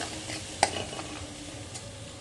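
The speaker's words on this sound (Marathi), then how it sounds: "कांदा छान आपल्याला तेल सुटे तोपर्यंत परतून घ्यायचा आहे" Soft, steady sizzle of onion sautéing in oil, with a single sharp clink of a utensil near the start.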